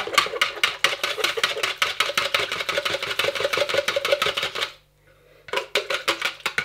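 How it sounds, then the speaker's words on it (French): Water being worked into flour in a bowl for homemade floating carp-bait dumbbells: quick, rhythmic tapping and scraping strokes that break off briefly, then start again. "Donc on va incorporer l'eau à la farine"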